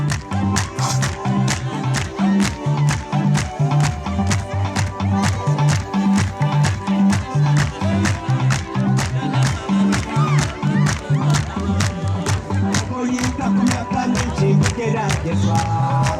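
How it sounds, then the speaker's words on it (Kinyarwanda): A church congregation claps in a fast, steady rhythm during lively worship, the claps loud and close over music and singing voices, carrying on evenly throughout. "twongere dusubire ku mashyi twumva amashyi"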